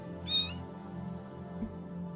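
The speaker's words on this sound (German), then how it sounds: "So, hier ist noch eine Katze." A cat in the video game The Elder Scrolls Oblivion gives a single short, clear meow near the start, then only a low ambient game hum continues.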